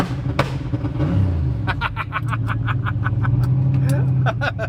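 A Dart V8 sits in neutral on a two-step launch limiter, crackling with a rapid train of sharp pops and bangs over a lumpy idle drone; a voice briefly speaks near the start.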